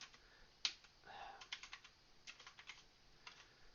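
Fingers tap a computer keyboard in quick, uneven bursts of light clicks, with one sharper keystroke early on and short pauses between clusters, fairly quiet and close.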